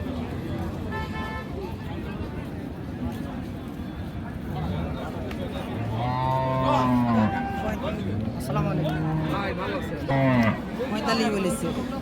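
A Friesian cow moos several times, drawn-out and fairly close, amid a busy crowd of talking voices and occasional vehicle noise at the Raniganj cattle market.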